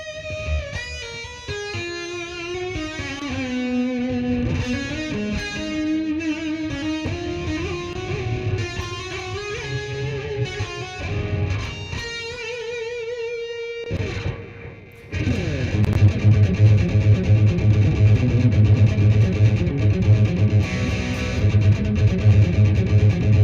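Electric guitar plays a melodic line with a long reverb and echoing delay tails, then shifts to heavier sustained chords with a rhythmic pulsing texture.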